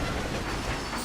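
Train running in Red Dead Redemption on Xbox One X: a loud, steady rumble and clatter of rolling wagons fills the short moment with no voices.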